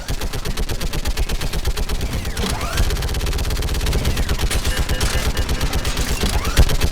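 Sustained automatic gunfire in a firefight from the video game Mass Effect 3, loud and continuous with rapid rhythmic bursts and occasional heavier booms layered throughout.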